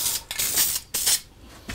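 Short aerosol sprays of finish coat hiss onto a wood carving indoors, several bright, close bursts separated by brief gaps.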